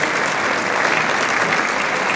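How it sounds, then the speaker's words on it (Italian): Audience applause at a folk festival stage, where a Romanian folk ensemble is performing, forms a loud, dense, continuous wash of clapping from a large crowd. "Facciamo un applauso."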